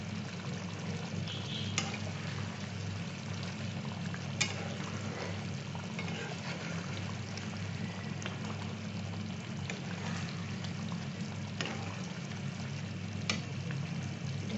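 Paneer masala being sautéed in a pan for shahi paneer, a steady soft sizzle under faint scraping stirs and occasional small ticks of the spoon against the pan, fairly quiet with no talking.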